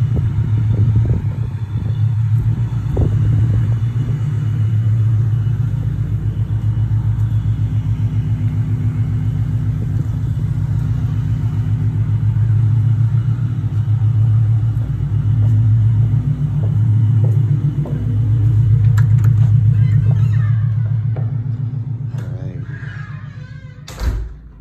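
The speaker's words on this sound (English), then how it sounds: "there's a helicopter, otherwise known as a Mustang GT, in that driveway. Super loud" A Ford Mustang GT idles in a residential driveway with a loud, steady low rumble, sustained close by without break for the whole stretch and swelling slightly near the end.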